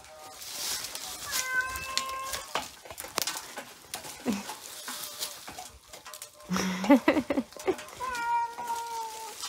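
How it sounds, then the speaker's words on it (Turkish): A village cat meows repeatedly and insistently, close by, with several drawn-out calls spread across the stretch, mixed with rustling and a brief spoken word. "Kızımızın kedisi. Mavulup mavulup duruyor."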